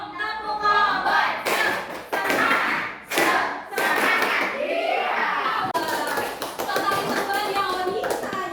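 Students in a classroom clap the 'Tepuk kompor' pattern in unison, sharp group claps in short rhythmic bursts mixed with children's voices and chanting.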